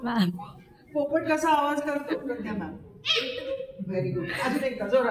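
A child imitates a parrot's call in a few short, bright squawks alternating with an adult's encouraging speech, close and fairly loud.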